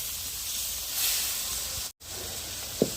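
A puffed rice uggani mixture with turmeric steams in a pan with a steady, close hiss and no talk. A brief gap of silence falls midway, and a small tap sounds near the end.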